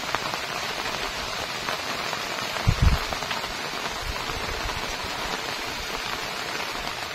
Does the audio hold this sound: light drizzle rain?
yes